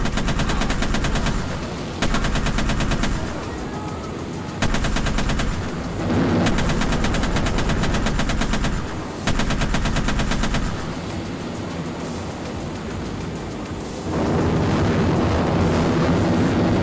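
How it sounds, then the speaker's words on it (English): A Su-35S Flanker jet's machine gun in Arma 3 fires in long sustained bursts, a loud rapid rattle repeatedly stopping and restarting over a constant roaring jet engine drone. "So first I'll show you the machine gun going off."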